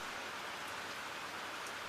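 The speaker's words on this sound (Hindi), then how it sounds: "एक तो बारिश ने पूरे प्लान को बर्बाद कर दिया है" Steady rain falls throughout, a dense, even hiss of drops hitting surfaces with no other sounds standing out.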